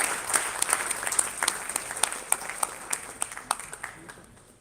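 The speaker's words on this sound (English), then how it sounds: "Please give a very big round of applause once again." An audience applauds at a conference inauguration session, a dense patter of many hands with sharper individual claps, fairly near and tapering off over several seconds.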